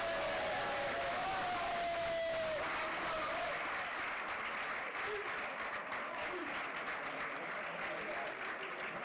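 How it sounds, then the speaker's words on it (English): Sustained applause and cheering from an audience at a school honors convocation, a dense steady wash of clapping that carries through the whole stretch, with some tonal whistling or voices early on. "Please another round of applause for our prefects here"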